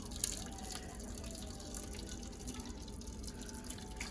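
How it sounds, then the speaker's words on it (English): Homemade muscadine juice pours slowly into a cheesecloth strainer, a soft continuous trickle with scattered drips close by, steady and fairly quiet throughout. "you're gonna pour it into the cheesecloth slowly"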